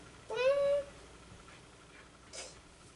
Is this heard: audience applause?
no